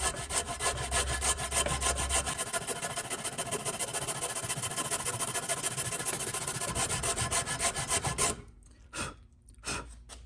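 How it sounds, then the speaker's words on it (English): A Shinto rasp smoothing a tulip poplar conical dowel wedge, fast rhythmic rasping strokes close and loud for about eight seconds, then a few isolated scrapes after a pause. "I'm about to clean it up with the Shinto rasp"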